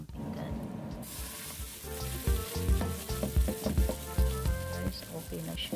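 Enoki mushrooms bound with egg fry in a pan, giving a steady close sizzle with busy crackling and a few louder knocks as the pan is shaken.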